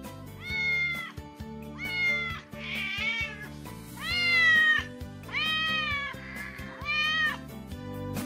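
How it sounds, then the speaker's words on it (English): A cat meows repeatedly, about six clear, drawn-out calls in a row over a soft musical backing, loud and close. "Cat."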